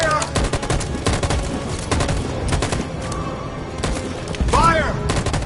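Rapid volley of gunfire from a squad in the Detroit: Become Human video game, a dense burst of sharp cracks over about five seconds with voices shouting over it.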